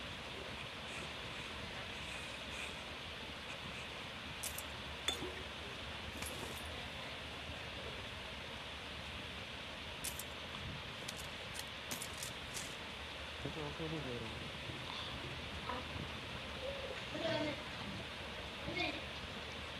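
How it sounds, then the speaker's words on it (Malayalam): Rain falls in a video game as a soft, steady hiss with faint scattered patter, running quietly throughout. "ഗെയിമില് മഴ തുടങ്ങി. കൊള്ളാമല്ലോ."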